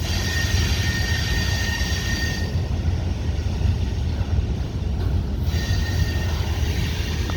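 A CSX freight train led by L&N heritage unit 1850 rolls slowly into the yard at Cumberland, Maryland, pulling a long string of boxcars. It makes a continuous loud rumble and rail roar with faint wheel squeal, and nobody speaks.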